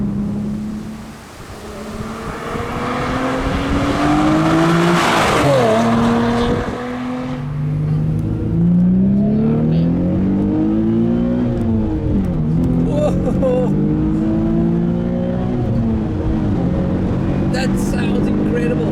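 A 2007 Nissan 350Z HR engine revs hard and accelerates on an open road, its pitch climbing and dropping in repeated surges as it shifts, loud and close with steady road roar.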